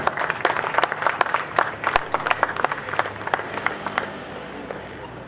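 An audience at an Arts Council Pakistan gathering applauds as flowers are presented to the chief guest, with lively, fairly close clapping that stays dense for about four seconds, then tapers off.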